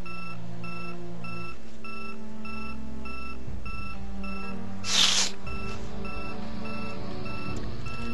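A fire or burglar alarm in the video game Project Zomboid beeps in a steady, evenly spaced repeating pattern throughout, broken once by a brief burst of noise.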